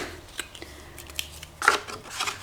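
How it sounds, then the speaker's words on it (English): Scissors snip through fabric during a signature-sewing repair, giving a few sharp, close cuts with soft rustling between them and no talking. "I'm just going to do that very simply with scissors."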